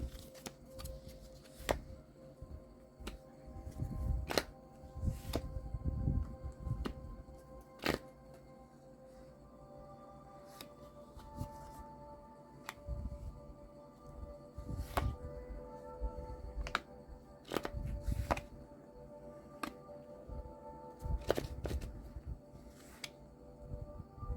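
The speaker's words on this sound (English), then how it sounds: "I'm going to draw a couple more cards from this deck before we start." A tarot deck is quietly shuffled and cards are drawn, giving soft riffles, slides and sharp little card snaps scattered over a low background, with no voices.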